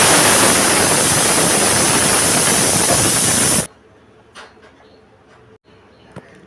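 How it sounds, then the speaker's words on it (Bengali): A pressure cooker boiling drumsticks lets out a loud, steady steam hiss for several seconds. The hiss cuts off abruptly, leaving quiet kitchen clinks. "প্রেসার কুকারে একটা সিটি মেরে সেদ্ধ করে নেব।"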